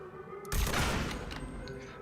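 A bolt-action rifle shot in the Mafia III video game, one sudden loud broadband blast that then trails off into a lingering rumbling echo.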